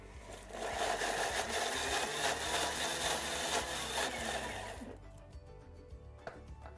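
A blender mixes kimchi sauce ingredients in a continuous, moderately loud grinding whir that stops partway through, leaving quiet room sound.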